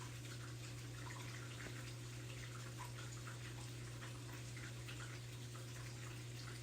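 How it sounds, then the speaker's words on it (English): Indoor water fountain running in a bedroom: a steady, even splashing trickle that holds constant throughout, with a faint low hum underneath and no voices. "This is the water in the background, by the way. It's just a fountain."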